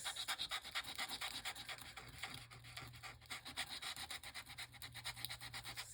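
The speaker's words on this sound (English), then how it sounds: "sand this a little bit." Sandpaper rubbed by hand across a small Halloween craft tag, making a steady, rhythmic back-and-forth scratching of quick strokes that continues throughout, close up and moderately quiet, with no voices.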